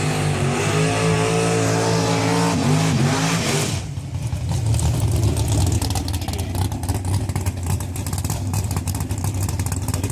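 A big block Chevy race car engine of about 1,000 horsepower roars loudly at a drag-racing track event, droning and shifting pitch before surging into a harsh, full-throttle acceleration blast that continues to the end.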